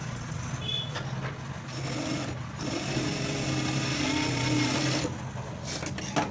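A sewing machine stitches a blouse with a steady, continuous motor whir and needle clatter up close, running for several seconds with slight changes in pace and no talk over it.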